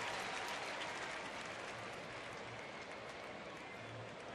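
A large crowd at Rangers Ballpark in Arlington during an Angels at Rangers baseball game applauds continuously, a dense, steady wash of clapping and crowd noise filling the stadium without letup.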